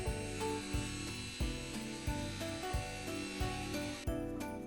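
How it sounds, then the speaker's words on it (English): A Mirka Deros 5-inch random-orbit sander with 150-grit paper running over the edges of scrap lumber, a continuous whirring buzz with rhythmic scuffing pulses roughly every two-thirds of a second as the pad moves along the wood. "We used our Mirka Deros 5-inch sander with some 150 grit paper for a quick sanding"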